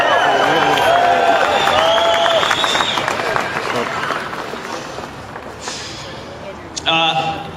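Large crowd at a Second Amendment rally in Newtown, Connecticut, a broad murmur of many voices and scattered cheers with some clapping, with a voice speaking clearly over it early on.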